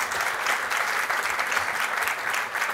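Steady applause from an audience at a leadership talk, a dense, even patter of many hands clapping at moderate loudness throughout.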